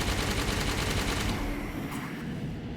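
Rapid automatic fire from a Banshee aircraft in Halo 5, a dense continuous stream of loud gunfire over engine roar that thins out slightly toward the end.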